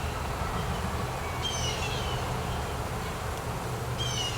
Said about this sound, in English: These are the feral bees that I was given.